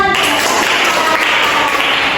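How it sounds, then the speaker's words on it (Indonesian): Dense, loud classroom applause right after a student's story in a microteaching lesson, sustained clapping that fills the whole stretch without talk. "Beri tepuk tangan."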